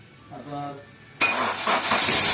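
A car's starter cranks the engine on a weak, run-down battery. A short stretch of talk comes first, then a sudden loud, rough, continuous cranking churn that runs to the end.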